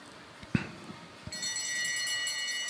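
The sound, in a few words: bell rung for the final lap at a velodrome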